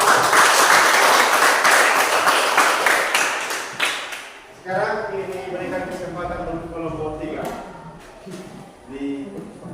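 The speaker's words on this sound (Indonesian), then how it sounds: "Oke, tepuk tangan buat kelompok 2." Classmates in a classroom give group 2 a brisk round of clapping, dense and lively at first, then thinning out as a voice begins speaking over the last scattered claps.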